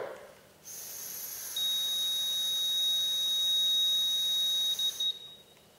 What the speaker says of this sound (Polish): Pomiar kończymy w momencie ustania sygnału dźwiękowego.